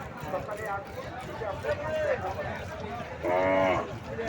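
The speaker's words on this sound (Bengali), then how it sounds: "বিভিন্ন ধরনের গরু" Cows at a rural cattle market in Naogaon selling cows and calves, with several close moos rising over a busy crowd and people talking throughout.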